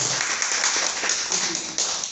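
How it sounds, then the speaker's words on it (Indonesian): An audience claps hands together in a continuous, fairly loud wash of many claps, steady throughout with a few sharper individual claps standing out. "Tepuk tangan dulu dong kalau punya potensi"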